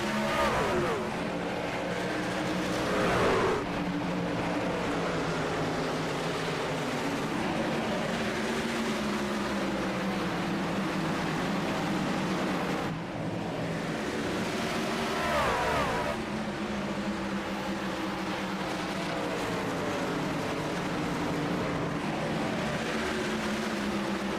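Stock cars racing at Bristol Motor Speedway in the iRacing video game, a continuous loud drone of engines with rising and falling pitch as cars pass, steady throughout with no talk.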